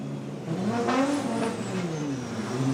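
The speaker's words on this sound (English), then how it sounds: "Kazuya Taguchi will lead up garage ISR 86, Royal Purple top 16" Formula Drift Toyota 86 race cars accelerate at an event in New Jersey, a loud engine note rising and shifting pitch over a few seconds, with a second car's tone overlapping in the background.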